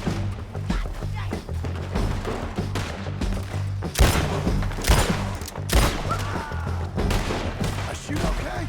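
Gunfire in a Red Dead Redemption 2 shootout: repeated loud shots and bursts over a constant heavy rumble, with several sharp cracks close by.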